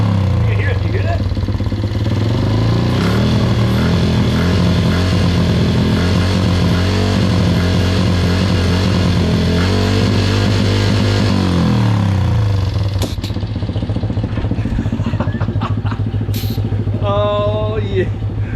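A nitrous-fed mini bike engine runs loud and steady close by, its rough idle wavering as it is purged, then settling into a buzzing drone while a few voices speak briefly near the end.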